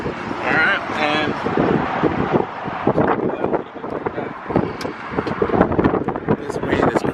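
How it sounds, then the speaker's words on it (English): Strong gusting wind buffets the microphone outdoors in an open, unsheltered spot, a constant loud low rumble with roaring surges while people talk over it. "this wind is crazy today."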